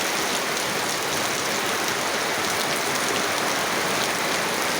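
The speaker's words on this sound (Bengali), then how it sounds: "অনেক বৃষ্টি হচ্ছে অনেক। এখন বাজে 11:30 সকাল, এখন তো বৃষ্টি শুরু হয়ে গেছে।" Heavy rain pouring down steadily in a late-morning downpour, a dense, loud, unbroken roar of drops on surfaces with no voices.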